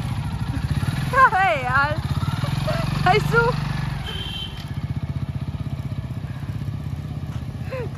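A motorcycle rides steadily with a dog aboard, its engine putting out a constant close putter throughout, while someone talks and exclaims over it.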